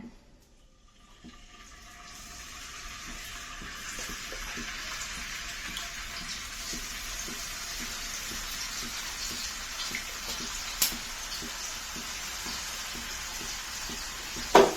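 Anchovies seasoned with salt and chilli fry in hot oil, giving a steady, close hiss of sizzling that builds in the first couple of seconds and holds evenly, with a few brief pops near the end.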